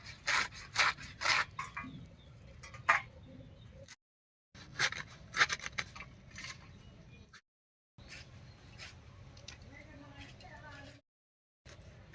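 A knife slices through rolled bundles of pumpkin, jute and drumstick leaves in a kitchen, giving rough rasping strokes in quick bursts separated by short pauses.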